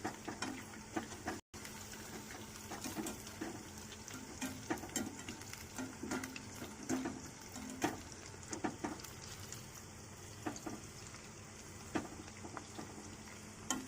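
Baby corn chicken 65 fries in a pan with a steady, close crackling sizzle and frequent small pops that carry on throughout, with no voices.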